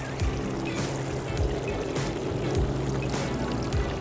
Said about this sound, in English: these flowers are getting their water.